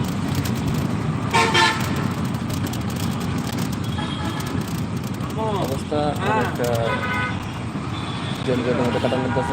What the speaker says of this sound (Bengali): এখন রাস্তায় প্রচুর জ্যাম